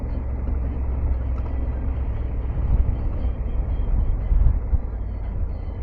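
A motorcycle cruising at about 30 miles an hour on a road near Horseshoe Dam, with a steady low engine drone and rushing wind noise throughout.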